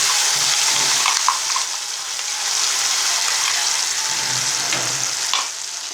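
Spicy garlic chutney fries in hot oil with curry leaves and mustard seeds, a loud, close, continuous sizzle with faint stirring touches throughout and no voices.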